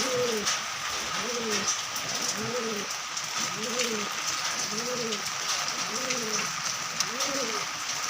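Pigeons cooing in a loft on a rainy afternoon, a close, regular series of soft rising-falling coos repeating about every second over a steady hiss of rain.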